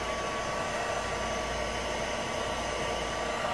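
A hair dryer blows steadily to dry watercolor paint on a card, producing a constant, even whooshing hum with no break in the few seconds heard.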